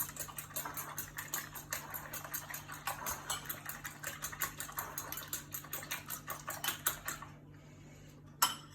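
A cracked duck egg is whisked in a dish, fast rhythmic clicking of utensil against dish, close but faint over a steady hum, stopping abruptly near the end with one final tap.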